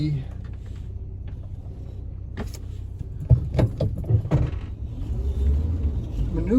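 A 1984 Volkswagen Westfalia van is being driven and steered through a tight spot, giving a steady low engine rumble with a few clunks and knocks while a person talks over it.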